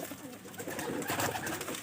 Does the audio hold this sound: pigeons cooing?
yes